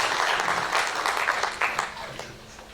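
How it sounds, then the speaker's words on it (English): Audience applause for a doctor who has just presented at a World Tourism Day celebration, a dense, steady wash of clapping from a moderately sized crowd that thins slightly toward the end, with faint murmuring underneath. "A round of applause again for Dr."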